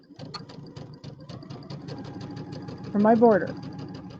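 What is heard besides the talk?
sewing machine stitching quarter inch seam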